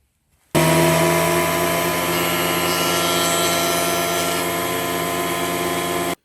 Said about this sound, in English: Let's take her over the planer and see how well that comes off the top.